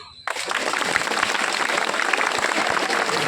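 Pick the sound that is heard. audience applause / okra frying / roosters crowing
audience applause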